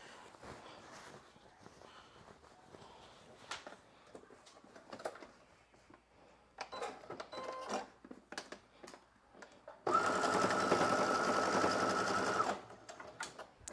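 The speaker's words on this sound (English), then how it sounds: "I could go ahead and turn off the serger simply because I no longer need it" A serger sews a slip dress made from New Look 6653, running in a loud, steady burst for a few seconds near the end after quieter fabric handling and soft bumps.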